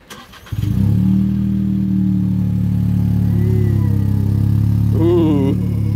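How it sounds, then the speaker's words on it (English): A car with an aftermarket Garoya exhaust cold-starts: a brief cranking, then a loud catch and a steady, deep, rumbling high idle that holds close and strong. "The cold start."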